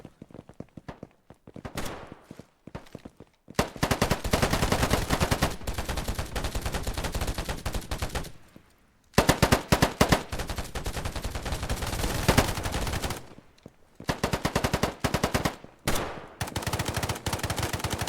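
Automatic gunfire in the free Steam shooter Polygon, loud sustained bursts with short gaps between them and a brief pause near the middle, with no voices.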